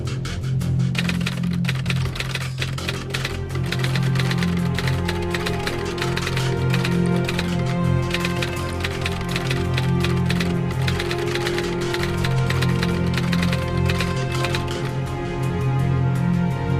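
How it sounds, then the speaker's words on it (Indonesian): A manuscript is typed quickly, with a long, continuous stream of rapid, close keystrokes clattering over steady background music. "Ya sudah, tolong ketik dengan cepat ya."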